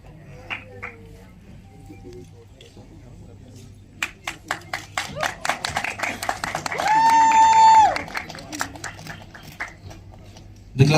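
Scattered claps build into rhythmic audience clapping at a film press conference in Delhi, with a loud sustained whoop or whistle rising mid-way, then fading to a few claps before a voice cuts in at the end.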